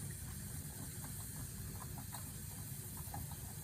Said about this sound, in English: You can hear the boiler starting to hum